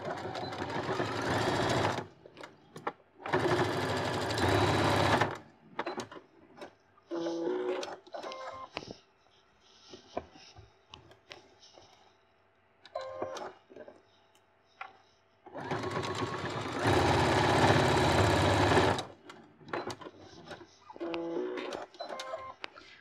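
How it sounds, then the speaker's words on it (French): A sewing machine stitches the corners of a square fabric pouch with backstitches at the start and end of each seam. It runs in loud bursts separated by quieter handling and short mechanical stops. "Je vais les coudre avec des points d'arrêt en début et en fin de couture."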